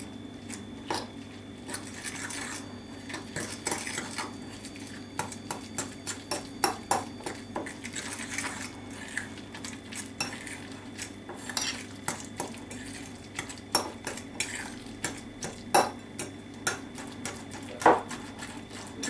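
Whole egg being beaten into tuna tart filling in a bowl, with steady clinking and scraping of a utensil against the bowl throughout, close and moderately loud, no talking.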